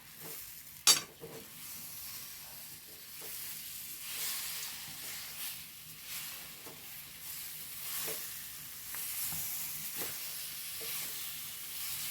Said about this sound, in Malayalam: കുറച്ച് മാ എണ്ണ ഒഴിച്ചു കൊടുക്കുന്നുണ്ട് അത് നമ്മൾ വറുത്ത് മാറ്റി വെച്ച എണ്ണയാണേ ഒന്ന് ഇളക്കി കൊടുക്കാം